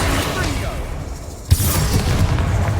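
The Bombarda spell goes off in the Hogwarts Legacy video game inside a tomb with a sudden booming burst. A rumbling tail follows, after a stretch of low game ambience.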